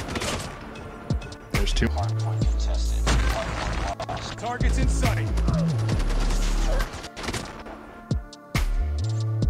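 A Call of Duty Mobile gunfight rattles with rapid bursts of gunfire and heavy booms that run nearly throughout, while a voice speaks briefly over the action.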